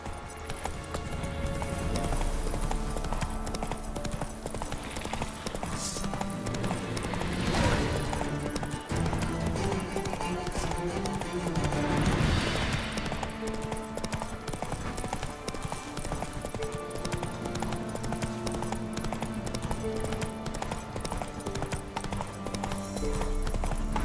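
Hooves of the horse Roach clip-clop in a steady galloping rhythm throughout in The Witcher 3, loud and continuous over game music and ambience, with brief swells of louder movement.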